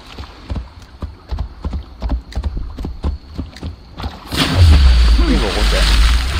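A horse in the video game Assassin's Creed Valhalla, its hooves clip-clopping in a quick steady rhythm close by, then giving way to louder splashing and rushing movement, with a voice speaking over part of it.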